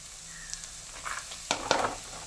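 Onions and carrot sauté in a pan for a Kerala-style tuna thoran, with a soft background sizzle broken by a couple of sharp stirring scrapes and bursts of frying noise near the end.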